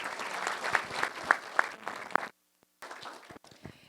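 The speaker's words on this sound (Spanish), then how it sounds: "Yo creo que hay que darle un aplauso" Audience applause at a Spanish-language book launch, steady clapping from a crowd for about two seconds, then a brief silence before a scattered second burst of claps.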